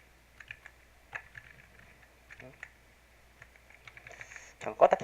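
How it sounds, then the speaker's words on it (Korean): Sparse computer keyboard typing, scattered individual key clicks and short bursts in a quiet room, faint and close, ending with a slightly louder cluster of taps. "타이핑이 좀 이상해지네"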